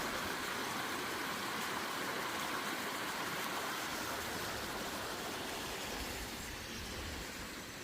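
A creek runs beside a wooded trail, giving a steady, loud, broadband rush of flowing water that stays constant throughout with no voices.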